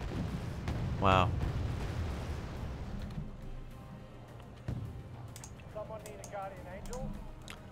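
An explosion in the video game Wargame: AirLand Battle, with a loud rumbling blast at the start that fades into a sustained low roar and scattered distant pops. A voice briefly exclaims.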